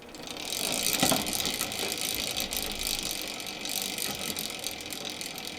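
A chain and sprockets on a waterwheel microhydro powertrain subframe, a crooked chain clunking and ratcheting continuously, close and steady with a few heavier knocks.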